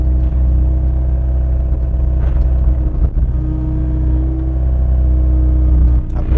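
A 2017 Kubota KX057 mini excavator engine runs steadily at close range, a loud continuous diesel drone with a faint hydraulic whine and occasional light clatter.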